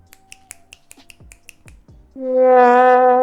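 Roughly nine crisp, close finger snaps in a quick, slightly uneven rhythm, each sharp and dry, followed abruptly by a loud sustained buzzing tone that holds to the end.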